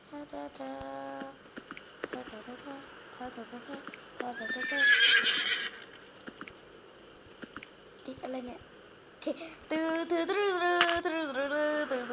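A horse neighs inside a Roblox obby game: one bright, shrill whinny rings out mid-clip over busy game sounds, with occasional speech.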